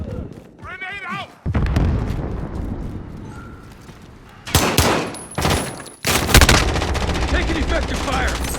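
Heavy gunfire from the Modern Warfare game comes in loud bursts, with dense rattling volleys between quieter stretches and a shouted voice over the shooting.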